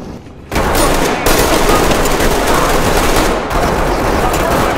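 Loud, sustained automatic gunfire in an online realistic shooter game, rattling bursts that cut in abruptly after a brief quiet start and pause once midway.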